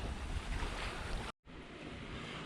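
Ocean swell washes steadily around a Hallberg-Rassy 54 sailing yacht in light wind, a continuous hiss and rumble of water broken by a brief cut to silence before the same wash resumes.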